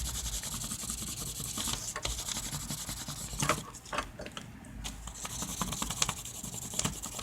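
A pencil rubs back and forth over a textured art rubbing plate, a soft, steady scratchy hiss with uneven strokes, close and quiet.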